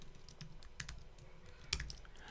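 Computer keyboard typing with a few scattered, uneven key clicks, one sharper strike near the end, close and fairly quiet against a low room hum.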